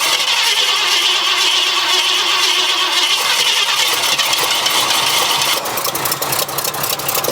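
Abandoned Ford F100 truck engine cranks and catches, then runs rough and loud with rising revs, a continuous close mechanical roar throughout.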